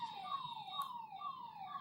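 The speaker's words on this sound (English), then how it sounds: "Now see, this is an ambulance coming behind." An ambulance siren wails behind in city traffic near a double-decker flyover in Nagpur, India, a repeating falling tone sweep cycling several times, moderately distant and clear over low traffic rumble.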